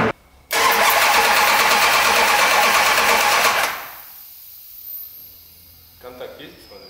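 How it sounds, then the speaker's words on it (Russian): A 1969 Dodge Charger with a 400+ hp engine being started: the starter cranks loudly and steadily for about three seconds, then cuts off, leaving a faint rumble and quiet background sounds. "Мы будем пробовать завести этот мотор."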